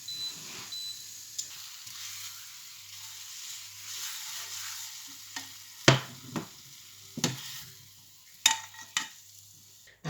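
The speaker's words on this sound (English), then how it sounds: "Put half a lime, just going to char on there as well. Just to help to glaze that pan. A little bit of butter in there" Butter and half a lime sizzle in a hot pan while sticky pork and noodles are being made, giving a steady close hiss broken by several sharp clinks and scrapes of utensils against the pan, with no talking.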